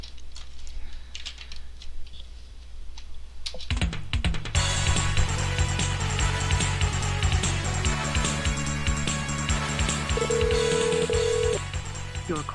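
An outgoing phone call starts with quiet background hum, then a burst of dialing and line noise leads into steady repeated ringback tones on the line, loud and close.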